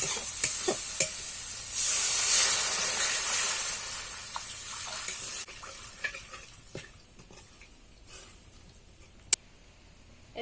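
Spiced water poured into a hot pan of oil for a Bengali katla fish kalia, a loud bright hiss and sizzle that swells and then settles into softer bubbling, with a few clinks of a spoon near the end.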